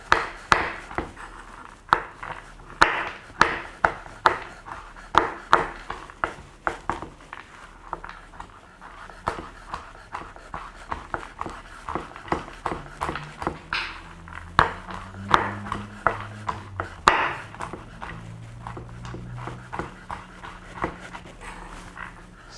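Quick, irregular knife taps on a board repeat steadily for a long stretch, fairly quiet and close, with a low hum joining partway through.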